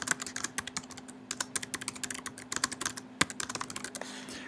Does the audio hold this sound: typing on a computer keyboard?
yes